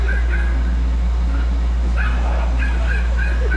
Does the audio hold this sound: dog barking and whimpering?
yes